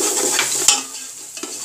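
Whole garam masala spices, including cinnamon and cloves, roast dry in a pan with soft sizzling, scraping strokes and a couple of sharp utensil clicks against the metal.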